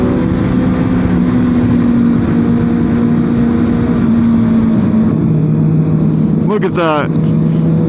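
Engines of a big group of riders rolling through city streets at night make a loud, continuous droning rumble with steady tones, and one rider revs sharply near the end while someone speaks briefly.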